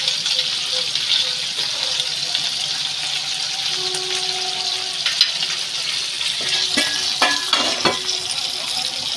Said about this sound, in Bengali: পেঁয়াজটা একটু নেড়ে চেড়ে নিই।